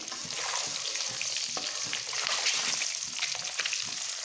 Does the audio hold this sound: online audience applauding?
no